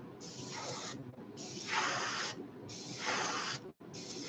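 Airbrush spraying sepia paint onto a fishing lure, three long hissing bursts of about a second each separated by short pauses, steady and close with no talking.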